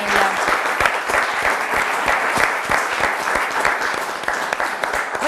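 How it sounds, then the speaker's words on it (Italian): Loud, steady applause from a studio audience on an Italian TV quiz show, dense clapping with distinct individual claps sustained throughout and no talk. "Noi facciamo un applauso e siamo vicini alla famiglia."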